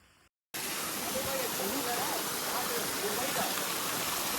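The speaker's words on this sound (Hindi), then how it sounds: "ये आ गया मेरे पीछे वाटरफॉल।" Patna waterfall near Rishikesh roars as a loud, steady broadband rush of falling water that starts abruptly and continues unbroken, with a faint voice barely audible beneath it.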